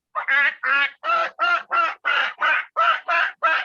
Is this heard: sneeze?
no